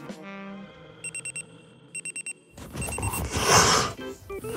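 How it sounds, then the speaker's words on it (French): An alarm clock beeps in short bursts of four rapid tones, repeated twice over a quiet musical background. A louder burst of noise and commotion then follows the beeping. "Oh, le réveil."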